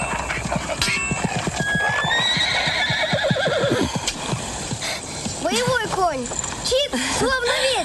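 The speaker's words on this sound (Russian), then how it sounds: "Боевой конь!" A war horse neighs loudly and clearly several times, its whinnies rising and falling up close, preceded by a rhythmic burst of hoofbeats and clip-clop.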